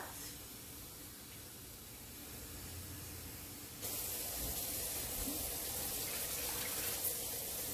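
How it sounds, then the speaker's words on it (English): Water pours into a pot of rice for arroz con gandules, a steady hissing splash that grows louder and brighter partway through and runs alone without talk. "since I did 4 cups of rice, I'm doing 4 cups of water"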